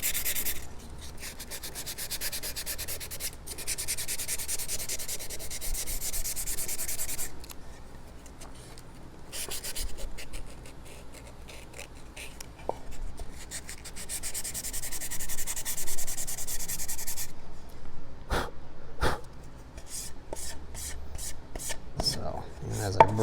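Coarse sandpaper scrubbing varnished wood on a tooled box top, rhythmic back-and-forth rasping strokes, close and fairly quiet, with brief pauses between bursts.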